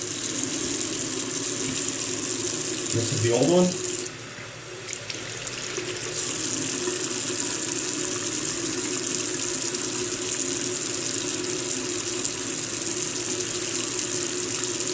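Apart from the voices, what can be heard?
water running from a tap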